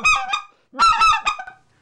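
A RedBone goose call blown by mouth to imitate a goose, giving a few loud, close, reedy honks in two quick bursts, the second a rapid double-note clucking honk, with no talking.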